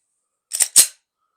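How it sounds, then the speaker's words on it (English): A Glock pistol loaded from Mec-Gar steel magazines fires two sharp, loud shots in very quick succession, each a short cracking burst, followed by silence. "Let's do a little rapid fire with it."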